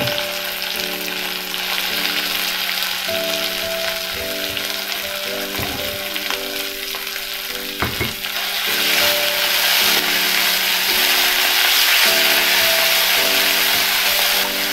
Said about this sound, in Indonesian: kita tumis sampai setengah matang ini kita masukkan cabai ya cabai yang sudah kita ulek tadi